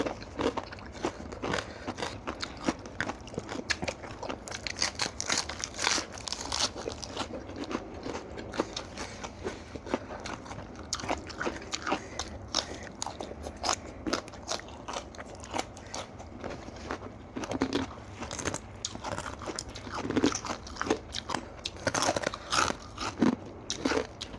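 Crunchy, loud chewing and biting of a spicy Thai mixed seafood salad with squid eggs and jellyfish, steady bursts of crisp crackling close to the mouth with no talk.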